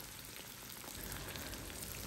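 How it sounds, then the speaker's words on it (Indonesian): Tofu and tempeh fry together in hot cooking oil, a dense, even crackling sizzle that grows slightly fuller partway through, with no voices. "Panaskan minyak goreng, kita goreng aja langsung tempe."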